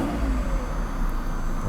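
Mercedes R129 300SL engine after fuel distributor repair, idling steadily around 900 rpm with a smooth, even mid-pitched hum, close and alone for a brief moment.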